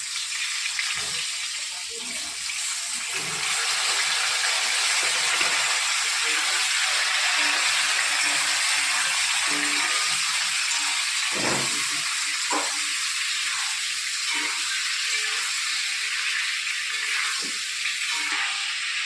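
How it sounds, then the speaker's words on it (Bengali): Potatoes and pointed gourd frying in hot oil, a loud, continuous close sizzle that holds steady throughout, with a few faint clicks of a utensil. "এবার আমি দিয়ে দেবো আলু আর পটল আলু পটলটা আমি একটু লাল করে ভেজে নেব"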